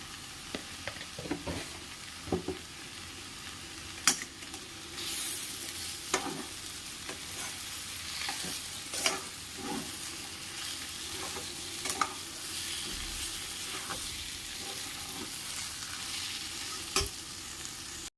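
Curd is stirred into fried fresh turmeric vegetable in a pan, a steady soft sizzle running under repeated scraping and clinking strokes of a spoon against the pan, with no one speaking.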